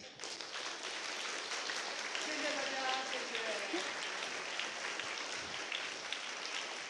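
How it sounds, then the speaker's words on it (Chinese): Students clapping for a lecturer at the close of a talk on Taiwanese art history, a sustained soft round of applause heard from a distance with some voices mixed in. "我们最后是不是再给肖琼瑞老师20秒的掌声？"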